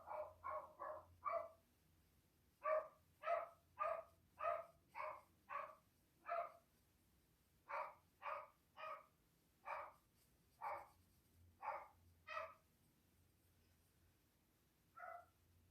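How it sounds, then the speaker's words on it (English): A dog barks in the background of a quiet indoor space, a faint, distant series of sharp barks in irregular bursts, some in quick clusters and others spaced a second or more apart. "My dog barking in the background."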